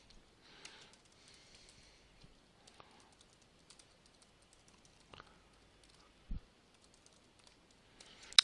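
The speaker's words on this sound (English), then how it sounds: "So let me type all the other parameters before explaining them to you." Typing on a computer keyboard, soft and fairly faint, with scattered key clicks in uneven bursts and a few louder taps and a sniff, no talking.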